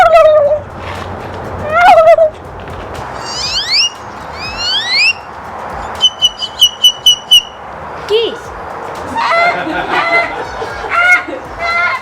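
An 11-year-old boy imitates bird calls with his voice: a run of separate whistled chirps, sweeping slides, rapid trilled notes and clucking warbles, close and fairly loud with short gaps between phrases.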